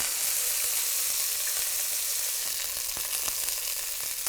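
Chicken sears in a hot skillet with a loud, continuous crackling sizzle close up, with a few sharper pops spread through it and no one speaking.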